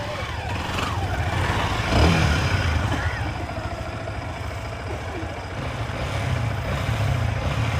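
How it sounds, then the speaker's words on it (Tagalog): A motorcycle engine runs steadily close by, a continuous low throbbing drone with slight swells in level and no clear speech over it. "Ang ganda ng makina ng motor ni Kabungot."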